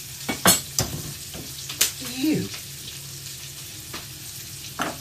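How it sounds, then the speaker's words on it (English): Red onion fries in a pan of oil and rendered chorizo for an omelette. A spatula gives a few close, sharp knocks and a brief squeaky scrape over a faint background sizzle. "And we're going to fry that off in that oil and chorizo mix."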